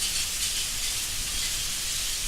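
Steady rain falling continuously, a dense even hiss of drops with no breaks, moderately loud and alone.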